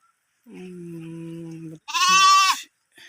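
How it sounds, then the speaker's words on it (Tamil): Goats from a herd of about 85 animals, adults and kids, out grazing; a long low bleat is followed by a brighter, higher bleat, both close and distinct against otherwise quiet surroundings. "இதில் பார்த்தீங்கன்னா 55 ஆடு, 2 கெடா, 30 குட்டிங்க இருக்குது."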